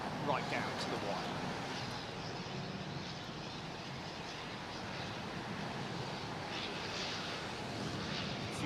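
Aircraft on a rain-soaked runway at London Heathrow in stormy weather, a broad steady roar of engine and spray noise holding at a constant level throughout, fairly close and unbroken.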